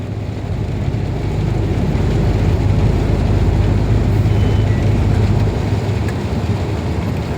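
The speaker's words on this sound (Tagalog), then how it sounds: "Pabalik na yung dalawang truck oh." Two heavy delivery trucks rumble past in Saudi Arabia with a steady, loud low-frequency engine drone that swells and holds across the whole stretch, no voices present.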